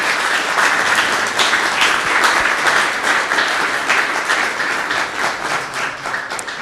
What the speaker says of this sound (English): Can we get one more round of applause for everybody?